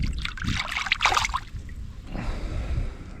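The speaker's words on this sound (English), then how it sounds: "Let's take a feel of this water in Badwater Basin." A hand dips into and stirs shallow, salty standing water in Badwater Basin, Death Valley, making close, soft trickling splashes that fade into quieter outdoor background.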